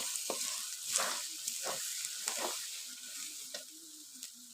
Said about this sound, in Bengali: মরিচ সব কিছু দিয়ে দিলাম একটু ভালোভাবে লাড়িয়ে মিশিয়ে নেব